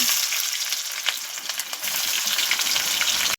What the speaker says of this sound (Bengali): পেঁয়াজগুলোকে এবার আমি লাল লাল করে ভেজে নেব